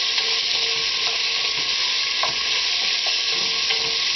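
Chunky beef browns in a pan with oil and bacon grease for homemade chili, giving a steady, dense sizzle with occasional crackles and pops, close up and continuous with no talking.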